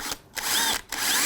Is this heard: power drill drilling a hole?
yes